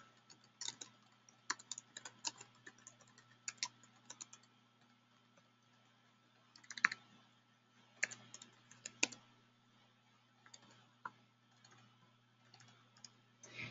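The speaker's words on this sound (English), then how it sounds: "I'm going to go in and type that in right now" Quiet, close computer keyboard typing entering contact information, with irregular bursts of key clicks and brief pauses, and a faint steady hum underneath.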